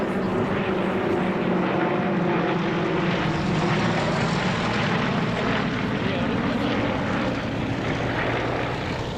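Yak military trainer propeller planes fly aerobatics at the Warbirds over Wanaka airshow, giving a loud, steady, rough engine drone that carries across the field without a break.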